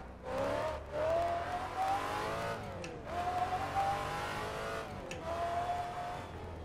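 A race car engine in the Assetto Corsa driving game, running a Legends mod, revs hard through three rising sweeps with brief lifts between gear changes, loud and close with no talking.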